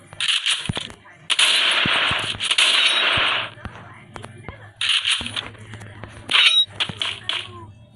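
Bursts of automatic gunfire from a Groza rifle and a shotgun in the Free Fire video game, with two long loud volleys and several shorter shots and crackles, near and sharp.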